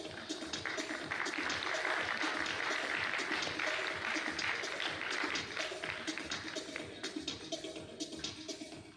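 An awards ceremony audience claps for people invited onto the stage, a dense, sustained round of applause at moderate level that stays steady for nine seconds before easing slightly at the end.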